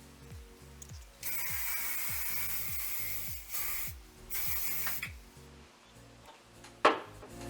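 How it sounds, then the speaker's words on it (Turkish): Hairspray hisses onto a finished bridal hair bun in two long steady bursts and a shorter one, loud and close, over soft background music. "Ben bunu bir sprey yardımıyla sabitleyeceğim."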